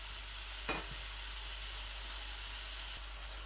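Prawns frying over a medium flame for prawn rice, a steady broadband sizzle running throughout with one brief stir or scrape near the start, close and fairly even in level.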